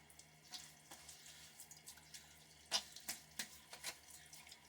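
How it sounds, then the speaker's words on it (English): Tap water runs into a sink to rinse a safety razor, a Timeless SS .68 open comb loaded with a Gillette Nacet blade, mid-shave; a steady soft wash of flow with a few louder splashes and drips, close and alone. "Do a little water rinse."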